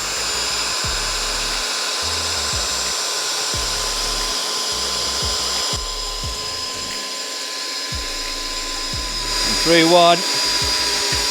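A power drill boring through wood for a homemade wooden BBQ, steady whine with repeated motor cut-outs and a short rising squeal near the end, while a person speaks briefly.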